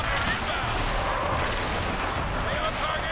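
Dense, continuous gunfire and booming battle noise from the Halo 3 video game fill the whole stretch, loud and close without pause, while a voice talks underneath.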